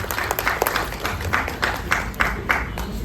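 Applause from a seated audience as a guest is welcomed onstage at a talk about Bihar and Nalanda, with moderately sized clapping and a few sharper, separate claps punctuating the sustained sound.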